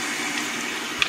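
Tap water running steadily over vegetables in a strainer, a continuous close hiss and splash with a small clink near the end.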